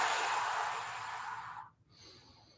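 Long, steady exhale through the mouth during a glute-bridge exercise, a soft airy breath held close and quiet for over a second before fading into near silence.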